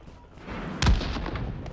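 Gunfire in a mobile battle royale game played on a Samsung phone, a single sharp burst with a booming low thump, followed by faint scattered shots under quiet background.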